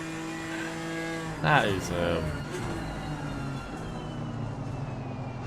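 BMW GT4 race car in Assetto Corsa Competizione accelerates down a straight, a steady engine drone with tonal harmonics and a brief rising swell, heard under a commentator talking.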